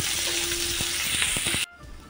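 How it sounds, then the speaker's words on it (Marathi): Chopped onion frying in a little oil in a home kitchen for misal pav, a steady close hiss with a few stir scrapes, cutting off abruptly near the end to a quieter background. "कांदा कापून घेतला आहे, तो पण टाकू आणि कांदा पण भाजून घ्यायचा"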